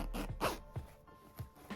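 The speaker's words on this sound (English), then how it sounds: "It's a cute little zipper bag." A zipper on a small fabric zipper bag being pulled in several quick rasping strokes, close and fairly faint, with no talk.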